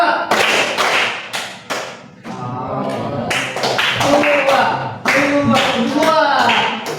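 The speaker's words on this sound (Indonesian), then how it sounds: "Kita akan melakukan tepuk ya. Oke, 6 tepuk ya." In a classroom, a group of students claps together on cue in loud, crisp bursts, separated by short pauses, while a teacher's voice calls out between the claps.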